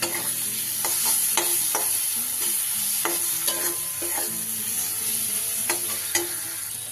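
A thick spice masala with three chopped green chillies fries in oil for a Bengali loitya fish jhal, giving a continuous close sizzle punctuated by regular spatula scrapes and taps of stirring, no voices.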